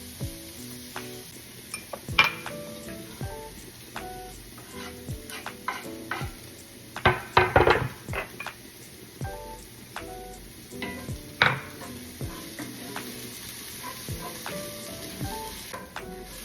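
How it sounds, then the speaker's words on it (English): Onions sautéing in a pan, with garlic, rosemary and thyme, for shepherd's pie: a lively crackling sizzle punctuated by repeated utensil clacks and scraping as the pan is stirred. "I'm gonna saute the onions."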